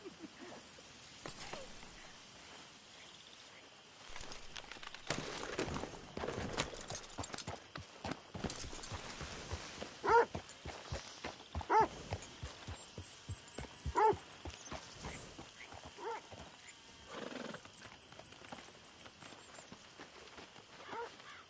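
Horse hooves clip-clop steadily at a walking pace in Red Dead Redemption 2, fairly quiet, with scattered thuds and soft background noise.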